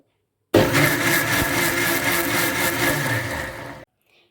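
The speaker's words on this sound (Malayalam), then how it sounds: "1/4 ടീസ്പൂണോളം മഞ്ഞൾപ്പൊടി, 1/4 ടീസ്പൂണോളം പെരിഞ്ജീരകവും കൂടി ചേർത്ത് നല്ലതുപോലെ ഇതൊന്ന് അരച്ചെടുത്തിട്ട് വരാം." A kitchen mixer grinder whirs loudly, grinding grated coconut with turmeric powder and fennel seeds in a steady, continuous motor drone with a pulsing texture, then cuts off abruptly.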